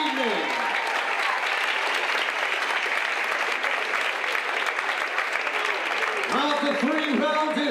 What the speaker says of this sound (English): please a huge round of applause to both boxers in the first contest of the evening